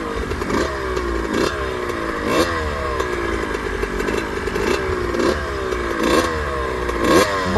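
A dirt bike engine is revved in repeated hard bursts to blow out the carburetor, about six rising and falling revs at a steady rhythm over a constant idle, loud and close with no talking.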